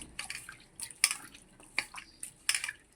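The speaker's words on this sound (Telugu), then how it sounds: "ఎండి చేపలు వేసుకొని నీళ్ళలో వేసి కడుక్కోవాలి." Dried fish washed by hand in a bowl of water: close, light splashes and sloshing with a few sharper clinks of fingers against the container, in irregular bursts and no speech.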